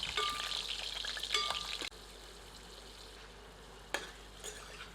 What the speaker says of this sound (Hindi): हमें इन आलूओं को भूनकर आंशिक रूप से पकाना है।